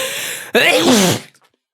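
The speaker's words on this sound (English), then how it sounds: "I had to sneeze" A single loud sneeze close to the mic, with a short indrawn breath before the sharp burst, then quiet.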